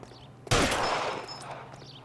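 A single loud gunshot from a pistol in L.A. Noire, a sudden sharp crack followed by a long fading echo over a quiet low background hum, with no talking.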